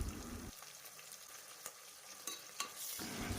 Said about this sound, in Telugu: దాంట్లో అల్లం వెల్లుల్లి పేస్ట్ యాడ్ చేసుకొని అది కూడా మంచిగా ఫ్రై అవ్వాలి